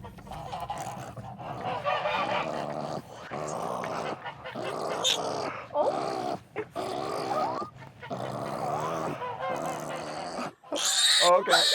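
Loud, shrill squealing and grunting from several young pigs, continuous with brief pauses, close by, over a low rumbling background.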